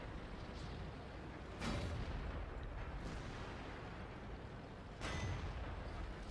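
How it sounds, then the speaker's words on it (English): IS-6 tank cannon firing in World of Tanks, with two heavy booming shots a few seconds apart over a constant loud rumble of engine and battle noise. "I decide to shoot his weak point on top of his tank"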